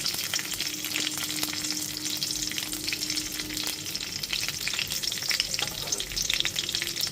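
Split green chillies and garlic frying in hot oil, a loud dense crackling sizzle throughout, with light stirring scrapes and pops close up.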